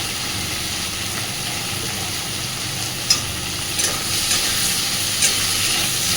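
Potatoes cut into long, thin strips, slightly thicker than for fries, sizzle steadily in a pan for puti fish chorchori, a constant close frying hiss with a few soft clinks of stirring.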